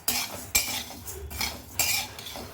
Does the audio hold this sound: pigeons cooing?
no